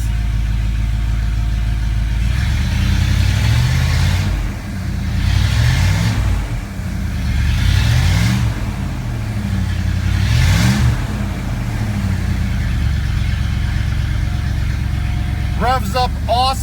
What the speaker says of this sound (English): Revs up awesome.